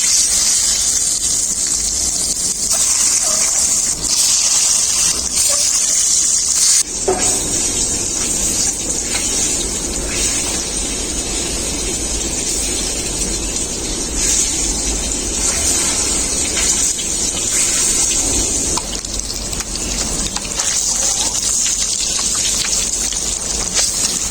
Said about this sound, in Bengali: এর মধ্যে আমি ডিমগুলো ভেজে নেবো